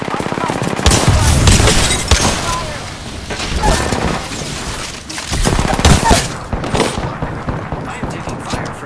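Gunfire in a video game: loud machine-gun bursts and fusillades with heavy booms, rising and falling in dense clusters under intermittent game voice lines.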